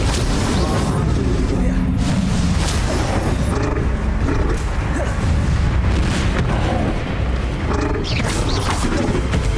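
Spell effects in the Hogwarts Legacy video game, a dense barrage of booming impacts, rumbling blasts and creaking magical whooshes filling the whole span, loud and constant with chaotic combat noise layered throughout.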